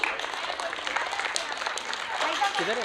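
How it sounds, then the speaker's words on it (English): Parents in an audience at a graduation day and Mother's Day celebration give students warm, continuous applause, with a voice starting to speak over the clapping near the end. "I would like parents a big loud applause for our students for delivering the speech."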